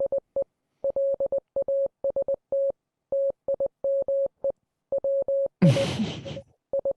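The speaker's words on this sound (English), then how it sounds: "That what you heard was Morse code." Morse code plays as a recorded hint: a steady, single-pitched tone keyed on and off in quick dots and dashes, loud and clean against silence. A short, rough burst of noise cuts in near the end.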